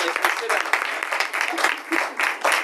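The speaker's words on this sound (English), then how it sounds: "We might even clap for you all for coming." Small group clapping at the end of a meeting, a short bout of applause with distinct individual hand claps, fairly loud and close, with voices talking over it.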